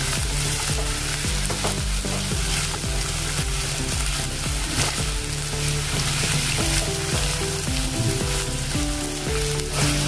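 Radish pieces fry in hot oil on a gas stove flame, giving a steady, dense sizzle with occasional stirring scrapes that runs unbroken and fairly loud throughout.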